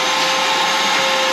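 A vacuum sucks a clog out of a clogged A/C condensate drain line, a steady, loud broadband roar with a hollow whine that holds without a break for the whole moment.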